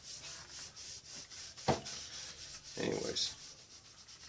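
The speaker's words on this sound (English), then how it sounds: "You just put a little dab on there and just start rubbing it in." A cloth rag rubs tung oil into an axe being reworked into a Viking carpenter axe, producing soft, close scrubbing strokes with two firmer rubs in the middle and a brief spoken word.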